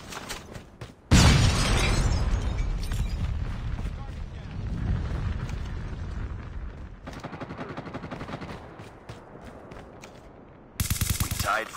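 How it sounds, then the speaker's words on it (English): A flashbang grenade goes off in a Call of Duty team deathmatch on the Satellite map, a loud blast that leaves a ringing wash, followed by rapid gunfire bursts and players shouting over the din. "Flashbang!"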